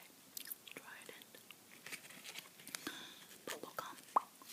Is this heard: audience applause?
no